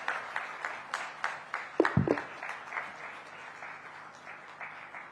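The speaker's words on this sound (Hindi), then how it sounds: "तालियां बजती रहनी चाहिए।" Scattered audience clapping at a literature festival award ceremony, sparse individual claps with a brief louder burst midway, fairly quiet and distant, no talk.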